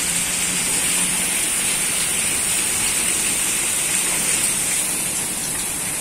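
Heavy rain pours steadily during a storm in the city of Chihuahua, a dense, continuous hiss of falling water close by, alone with no voices.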